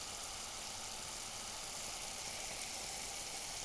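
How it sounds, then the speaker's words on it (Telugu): Native country chicken pieces frying in a bowl with fried onion and tomato, giving a steady, even sizzle throughout, close and continuous with no talk. "వెంటనే ఈ నాటుకోడి ముక్కల్ని నీటితో బాగా కడిగి ఒక బౌల్లో తీసుకొని ఈ వేగిన ఉల్లిపాయ, టమాటా బౌల్లో వేసి బాగా వేయించుకోవాలి"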